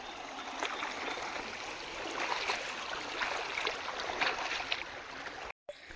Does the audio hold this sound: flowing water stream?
yes